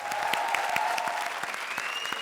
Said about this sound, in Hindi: जोरदार तालियां भारती के लिए